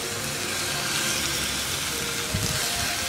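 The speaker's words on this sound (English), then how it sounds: "Let's sear." Beef searing with a little pork fat in a cast iron skillet, a steady broad frying hiss throughout, close and fairly loud, with no talking.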